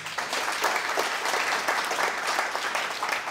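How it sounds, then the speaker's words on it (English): A crowd at a tech community panel on Presto applauds the Presto founders: dense, steady clapping from many hands that holds evenly through the whole stretch without letting up. "So a round of applause also."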